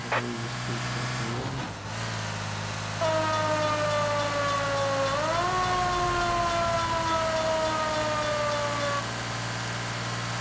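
An ambulance siren wails in long, steady tones that slowly glide in pitch, loud and close over a low engine hum, with no talk.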